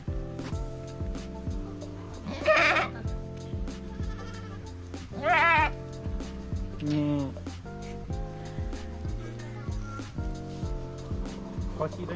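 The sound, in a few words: goat bleating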